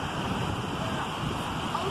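Waves wash along a beach shoreline in a steady roar while wind buffets the microphone, loud and close throughout with no clear break.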